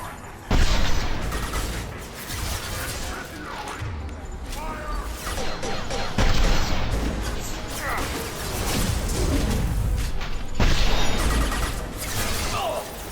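Heavy weapons fire during combat in the Krogan DMZ in the video game Mass Effect 2, loud booming blasts and crashes punctuating a dense, noisy firefight, with someone talking over it.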